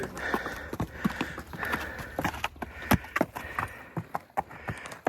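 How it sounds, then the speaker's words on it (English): Horse hooves clip-clop in an uneven walking rhythm on a hard desert trail in Arizona, with a steady outdoor background. "Horses on the trail."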